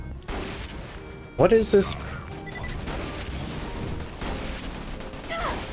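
A Borderlands 2 Puff gun lets off a short cluster of festive confetti blasts, a quick trio of pops over ambient game noise, with a voice speaking nearby.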